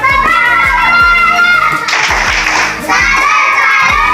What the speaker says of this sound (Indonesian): Kita berikan tepuk tangan untuk kelompok 5 dulu.